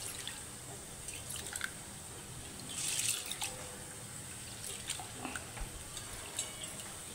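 Soaked rice is rinsed by hand in water for biryani, with faint drips, trickles and small splashes over a steady background hiss, one slightly louder splash near the middle.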